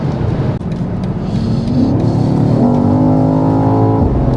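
A BMW XM Label SUV accelerates hard on the Autobahn, its engine note climbing steadily and loud and close, with a quick aggressive gearshift partway through before the revs build again.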